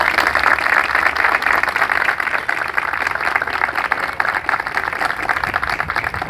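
An audience applauds a graduate named Federico, a steady wash of many hands clapping at once that holds at an even level for several seconds.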